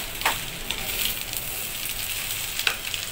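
Leftover rice fries in a hot pan for Filipino fried rice, with a continuous close sizzle of oil and a few sharper crackles and pops rising above it, no voices.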